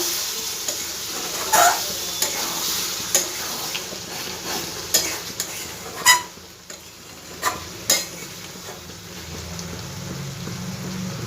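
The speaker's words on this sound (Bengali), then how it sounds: "ভালো করে একটু নাড়াচাড়া করবো" Fish oil chorchori with potatoes is stirred in a frying pan, giving a steady close sizzle and hiss of hot oil broken by repeated sharp scrapes and knocks of a spatula against the pan.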